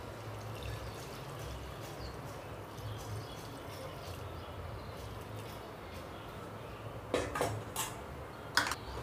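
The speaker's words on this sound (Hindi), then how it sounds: "आलू डालने के बाद अब हम पानी डालेंगे। पानी उबला होना चाहिए।" Boiled water is poured into a pot of mutton do pyaza curry with potatoes, a steady soft pour over a kitchen hiss, followed by a few sharp metallic clinks of utensils near the end.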